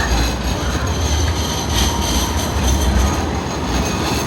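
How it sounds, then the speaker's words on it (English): A train rolls past in central Sydney near the Queen Victoria Building, a loud, close, continuous rumble of wheels on rails with squealing and rattling throughout. "Let's let this train go by."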